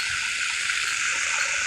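Game characters swim through water in Free Fire, producing a steady, bright rushing and splashing wash of water that stays constant throughout.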